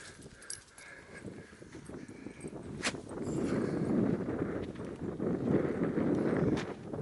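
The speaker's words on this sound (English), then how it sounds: "Very, very windy" Gusty wind buffets the microphone with low rumbling bursts that swell and fade, growing stronger midway, with a few faint clicks and distant sounds.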